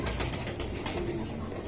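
Domestic pigeons at a pigeon seller's, including a pair of young adult birds, give low, soft coos that run on continuously through a busy, close-up backdrop of flock noise.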